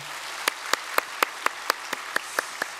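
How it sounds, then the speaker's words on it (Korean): A single person claps slowly and evenly in a church, about ten distinct claps spaced roughly a quarter second apart. They are fairly close and quiet, with no talk over them, as new families are welcomed to the congregation. "박수로 환영하겠습니다"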